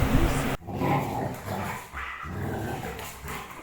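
A group of dogs out for a walk gives a few nearby barks and growly yips, broken up by rustling and handling noise.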